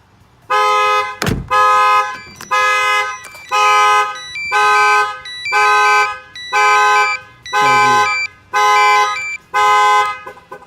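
A car alarm sounds after a door is opened, a loud horn-like tone pulsing in a steady repeating rhythm of about ten blasts, close and clear with a brief low thump near the start.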